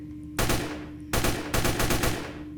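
Gunfire from a gun in a Roblox game comes as three bursts of loud, close, sustained shots, each running for a fraction of a second or longer over a steady electronic hum, with no voice present.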